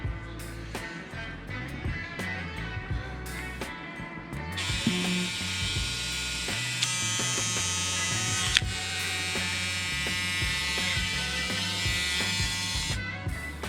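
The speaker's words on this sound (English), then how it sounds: "Oh yeah, we're ready to shave again" Braun Series 7 electric shaver with a freshly replaced head buzzing steadily at close range, starting partway in and running continuously with no talking.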